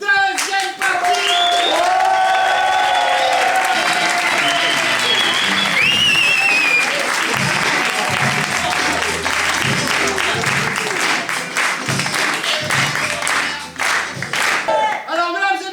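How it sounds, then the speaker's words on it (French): Loud, sustained applause from a live show audience, with steady clapping filling the whole stretch and a few voices and cheers mixed in. "un tonnerre d'applaudissements pour la deuxième partie"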